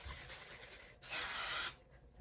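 A single spray of root pump volumizing hair product, a loud steady hiss lasting about half a second close up, set against a quiet room with no talking.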